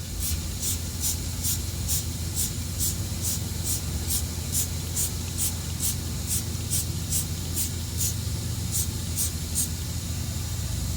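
A trigger spray bottle of foaming wheel cleaner puffs out a quick, regular string of short hissing squirts, close by over a steady low rumble.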